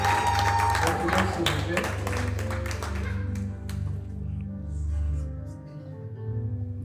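A church congregation claps and cheers during an ordination service, with the applause loudest in the first few seconds and then thinning. Music plays underneath and a voice speaks briefly.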